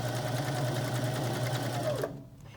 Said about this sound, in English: As you can hear, the machine is very strong and nice and smooth.